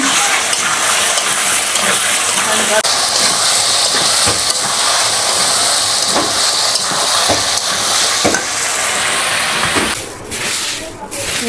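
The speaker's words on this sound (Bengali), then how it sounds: "মাছ কিন্তু ভাজা হয়ে গেছে আর এদিকে কষানো হইতেছে আলু" Fish and potatoes frying in a pan, a steady loud sizzle and hiss running throughout with occasional stirring clatter, while someone talks over it.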